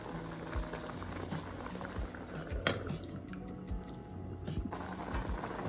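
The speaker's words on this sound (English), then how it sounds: "Our fish has been boiling for a few minutes now." Water bubbles at a rolling boil in a pot of fish, with occasional light clinks of metal utensils against cookware close by.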